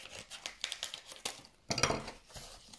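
Scissors snipping and slicing through a package during an art-supply unboxing, heard as a quick run of close, dry crisp cuts and rustles followed by a louder tearing burst, with no talk over it.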